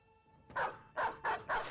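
Dogs barking in the Battle Brothers video game, four loud, close barks in a quick uneven rhythm with no talking.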